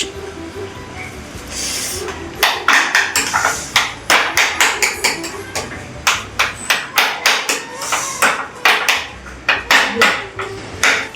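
Boiled, peeled potatoes being mashed in a pan for pav bhaji at home, with a quiet start followed by a steady run of sharp metallic knocks and scrapes, repeated roughly every half second and fairly close.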